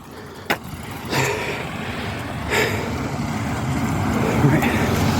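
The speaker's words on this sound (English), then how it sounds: "And of course there's a car." A car passes on a steep road while an e-bike rider climbs, a faint engine and tyre hiss swelling toward the end under light breathing and wind.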